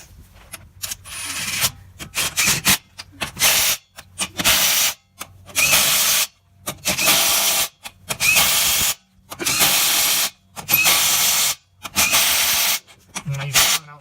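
A power tool tightens lug nuts on a 1999-2004 vehicle's wheel during a front brake rotor and pad job, running in about seven loud, close bursts of whirring and rattling, separated by short pauses.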